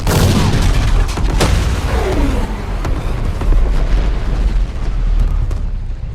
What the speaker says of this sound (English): this massive explosion spreads through the fleet